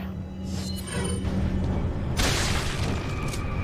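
A loud booming blast bursts out midway, broadband and sustained, following a rumbling mechanical buildup: dynamite blowing up rock in the video game Resident Evil 4.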